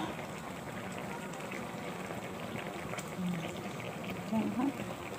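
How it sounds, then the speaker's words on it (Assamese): A pot of Assamese boil fish curry simmers with a steady, soft bubbling hiss, close and continuous, with faint background noise and a brief voice-like murmur near the end. "কি ধুনীয়াকৈ উতলি আছে"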